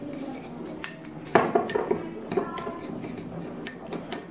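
A utensil stirs sauce for pork in a bowl, giving a handful of close, light metallic clinks and taps against the dish in an uneven rhythm over a quiet background.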